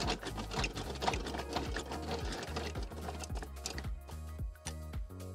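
A speed brace winds down the stabilizer leg of an AUSRV XL13E MKII offroad caravan, making loud, rapid, rhythmic mechanical clicking and grinding with a steady repeating beat close by.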